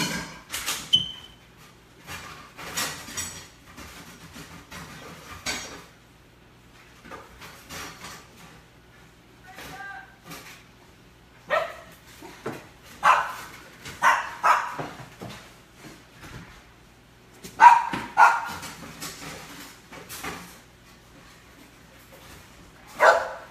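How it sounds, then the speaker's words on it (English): A dog across the street at a school barks in scattered bursts some distance away, with quiet gaps between volleys of sharp barks. "Dave's dog is across the street at the school."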